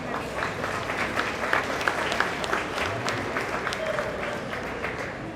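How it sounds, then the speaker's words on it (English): Audience applause at a meat goat show, steady and moderately loud clapping from a crowd filling the whole stretch without a break. "let's give those guys a round of applause."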